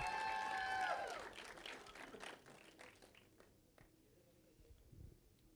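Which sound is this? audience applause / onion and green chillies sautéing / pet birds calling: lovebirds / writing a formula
audience applause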